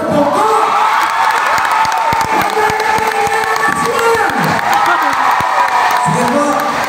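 Large outdoor crowd at a Philippine community gathering for Senator Bong Go claps, cheers and whoops steadily, a dense continuous roar with shouting voices throughout.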